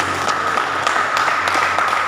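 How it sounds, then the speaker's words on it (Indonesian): Students applauding in a classroom after a group presentation, a steady wash of many hands clapping at moderate volume across the whole stretch, with no pause and a faint hum underneath. "Tepuk tangan dulu."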